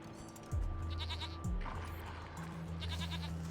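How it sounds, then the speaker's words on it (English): A goat in a video game bleats twice in drawn-out, quavering calls, fairly close, over a steady synthetic ambient drone with low tonal swells. "I keep hearing that one damn goat."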